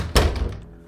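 A door being locked in an animated children's show makes a single solid thunk, close and short, that fades quickly with no talking.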